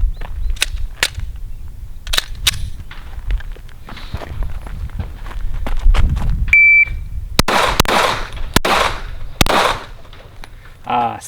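Glock 19 Gen 5 pistol fitted with a Radian Ramjet and Afterburner, firing a series of sharp, loud shots at uneven intervals, several clustered together, with a brief electronic beep and handling noises between them.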